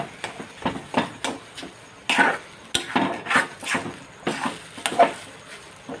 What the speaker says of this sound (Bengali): এই দিয়ে আমি ভালো করে সুজিটাকে নাড়িয়ে নেব